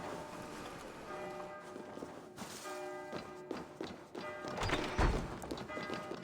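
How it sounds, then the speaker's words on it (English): Church bells ring through a town district in the video game Assassin's Creed Valhalla, sustained tolling tones layered with soft thuds and footsteps, fairly quiet throughout. "the bells are driving me crazy"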